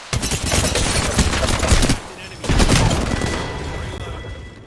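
Gunfire in the battle royale video game Apex Legends, dense bursts of automatic shots and impacts filling the clip, briefly easing near the middle before resuming loud, with speech mixed in.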